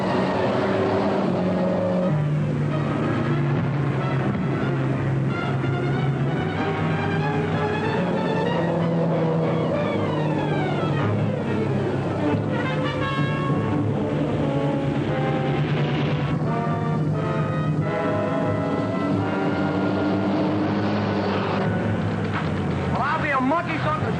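A hopped-up getaway car races at speed in a 1942 chase, its engine roar steady and loud throughout but partly masked by dramatic music and voices talking over it.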